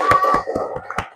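Children in a classroom clap, a short run of about six quick, fairly faint claps in a loose rhythm.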